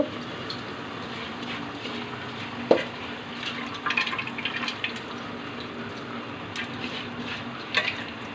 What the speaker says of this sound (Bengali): এখন আমি মুগ ডালটা দিয়ে দিব